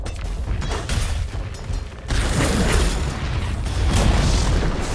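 In Dota 2, a tower is destroyed with a deep, rumbling boom that breaks out midway, amid busy game effects, then settles into a sustained crumbling roar.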